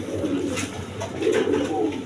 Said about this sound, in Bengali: এখানে এক পেয়ার ডেনিস কবুতর আছে রেড কালার